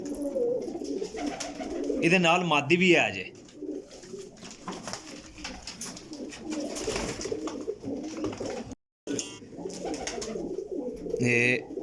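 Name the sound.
pigeons cooing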